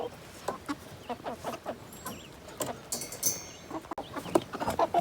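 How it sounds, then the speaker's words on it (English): Several roosters crow and chickens cluck in an irregular, busy chorus, fairly close, with scattered rustling and short bursts overlapping throughout. "We got a lot of roosters in this batch."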